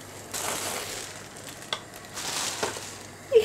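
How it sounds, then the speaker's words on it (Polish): Crushed walnuts toasting in a dry frying pan, a soft crackle and rustle with a few sharper clicks as the pieces shift, quiet and close with no talk. "wsypujemy pokruszone orzechy na patelnię"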